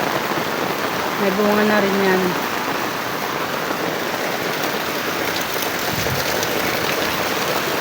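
Heavy rain pours down steadily, a dense hiss drumming on surfaces close by through the whole stretch, while someone speaks briefly near the start over the downpour.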